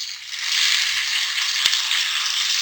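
Steady, loud sizzling of tomatoes and green chillies frying in a hot pan, with a faint clink of a utensil partway through.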